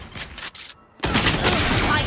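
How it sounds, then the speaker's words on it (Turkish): Gunfire in the Valorant video game: a rough burst of shots up front, a brief near-silent gap, then a dense, loud barrage of firing and game effects that carries through to the end. "I shot somebody"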